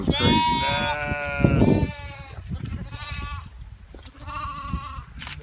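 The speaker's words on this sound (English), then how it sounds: "No, these are hair sheep." Hair sheep on a farm bleating repeatedly, several wavering calls close by, with a person briefly speaking between them.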